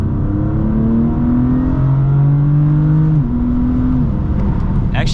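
A 2020 BMW M4 CS accelerating hard in third gear on a wet road, its engine note climbing in a smooth loud drone, dipping at a shift near the end as tire noise swells.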